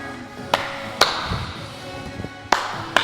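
Children clap during a school dance exercise: sharp, separate claps at irregular intervals, two close together early, then a pair near the end, with light shuffling and movement sounds between them.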